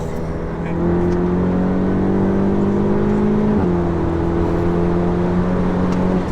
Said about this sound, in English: It does not stop pulling. That launch was insane.